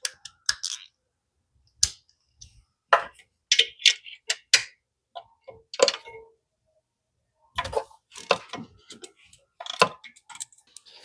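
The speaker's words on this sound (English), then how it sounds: "to reach down and get the spark plugs out, I'm using a 3-inch extension and a 16 millimeter deep well socket" Ratchet clicking on a 3-inch extension and 16 mm deep well socket while loosening spark plugs on a Honda CR-Z, sounding as close, crisp bursts of rapid clicks separated by short pauses.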